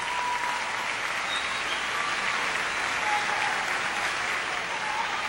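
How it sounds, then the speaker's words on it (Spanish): Loud, sustained applause from a large crowd at a beauty pageant, steady and continuous throughout with no break. "me gustaría, de parte de todos ustedes, un muy fuerte aplauso a todas las participantes"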